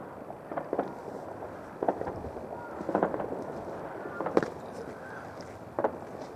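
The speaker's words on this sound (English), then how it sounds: "That's the bike festival firework display." Scattered bursts of a bike festival fireworks display go off in the distance over Scarborough harbour, several irregular pops and crackles spread over a steady outdoor background.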